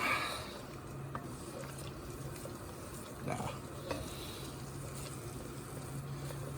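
Flour cooks in a pot for chicken sauce piquant, giving a soft, steady sizzle with a spoon scraping and stirring now and then, close and moderately quiet.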